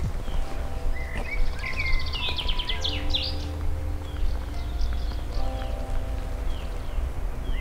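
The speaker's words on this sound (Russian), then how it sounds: "Слышите, как птички поют?" Birds chirp and twitter in short bursts at a moderate distance in the resort village of Nikita, Crimea, over a steady low outdoor hum with occasional faint footsteps.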